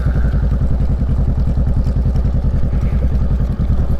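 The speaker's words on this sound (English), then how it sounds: "go ahead, turn your bike on" A motorcycle engine idles after being switched on with the ignition, a steady, rapid, close-up chugging pulse with no talking.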